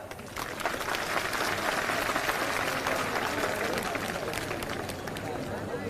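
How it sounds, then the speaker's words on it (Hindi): A large crowd at a political rally in Rewa applauds loudly and steadily, a dense wash of clapping with a hum of crowd noise and murmured voices underneath. "एक बार जोरदार तालियां हमारे सभी बड़े बुजुर्गों के लिए।"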